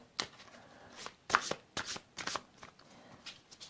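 Oracle cards shuffled by hand during a tarot-style reading, a run of crisp riffling bursts and soft slaps in an uneven rhythm, close and clear with no talking.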